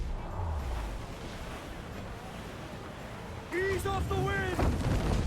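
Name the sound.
mortar fire explosions in video game Assassin's Creed IV: Black Flag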